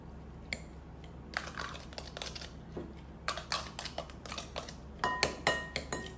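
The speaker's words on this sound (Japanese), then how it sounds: "ではこれをこの混ぜたすし酢をご飯の中に入れて混ぜます" A utensil works sushi vinegar into cooked rice, giving scattered clicks and scraping knocks against a bowl that come in irregular bursts, louder toward the end, in a quiet kitchen.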